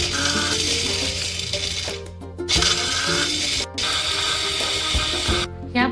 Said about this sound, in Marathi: खोबरं, हे शेंगदाणे, आलं लसूण, थोडीशी कोथिंबीर. आता आपण हे छान बारीक वाटून घेऊयात.